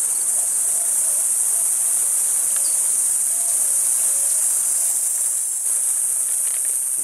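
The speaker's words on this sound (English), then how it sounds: "Cicada bugs, I think that's what they're called" After a flood, insects thought to be cicadas fill the trees with a loud, continuous high-pitched buzzing drone. It holds steady the whole time, and faint scattered ambient sounds sit beneath it.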